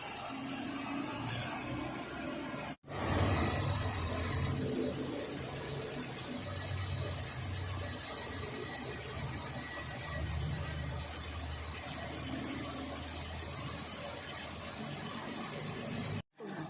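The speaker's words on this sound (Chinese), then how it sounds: "它这个发动机的声音 说不上很吵，但是也说不上是很安静。" A 1.5-litre engine in a two-month-old small Toyota car idles with a steady, moderately loud hum and faint mechanical whine, running continuously with a brief dropout partway through.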